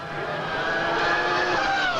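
Formula 1 race cars from the 2000 German Grand Prix roll in behind the safety car, a sustained engine drone with a gently sliding pitch, fairly loud and continuous with no talk.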